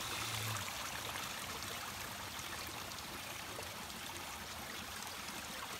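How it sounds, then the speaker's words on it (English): A small creek runs down a gully in the rainforest of Lamington National Park, a steady, close rush and trickle of water with no pause and no voices. "Just listen to that water."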